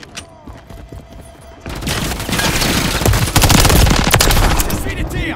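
Sustained automatic gunfire in Call of Duty Modern Warfare 3, sparse shots at first, then a dense, loud roar of machine-gun fire that builds and stays heavy until the end.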